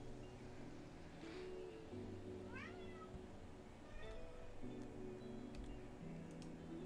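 A pet cat named Gila gives a couple of faint, brief meows against a steady low hum and light ticking, with long quiet gaps between calls.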